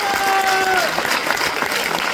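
An audience at a network marketing seminar breaks into loud, dense applause that sounds close and fills the whole short stretch, while a brief tonal sound fades out near the start.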